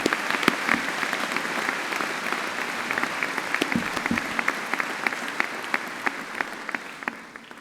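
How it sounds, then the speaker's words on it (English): A large audience at a university graduation ceremony applauds, a full, continuous roar of clapping with sharp individual claps poking through, tapering off slightly at the close. "I think we do owe him another huge round of applause for that"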